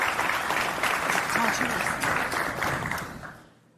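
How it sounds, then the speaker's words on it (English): Audience applause for a panel at an investor day event, a dense burst of clapping that holds steady for a few seconds and then fades out quickly. "please give a huge round of applause for our panel"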